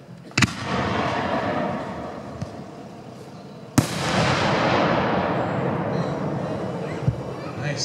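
A Dominator 6-inch dark red aerial firework shell, fired singly straight up, bursts with a sharp report followed by a long crackling, hissing wash that slowly fades, with another sharp bang partway through.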